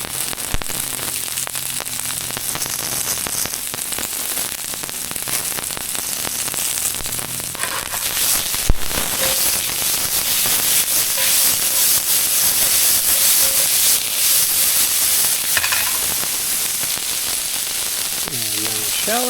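Garlic hits a hot pan that is already cooking golden tilefish and fizzles in a loud, steady sizzle and hiss. It is close and continuous, with a few clinks and stirring noises and no speech over it.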